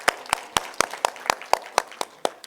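Evenly spaced claps at an ICT summit, about ten crisp hand claps in a steady rhythm, close and clear over a quiet room.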